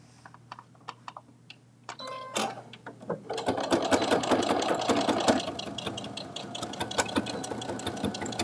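A sewing machine stitches a Sew Together Bag, starting with a few sparse ticks, then running in a steady, close, fairly loud whirr of rapid stitching through the second half, with no talk.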